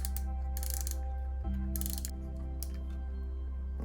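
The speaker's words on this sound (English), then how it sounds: "I'm going to loosen the drag up a little bit more until I can hear it" Fishing reel drag being adjusted by hand while line is held, giving close mechanical ratcheting clicks in a few quick bursts over a low steady hum.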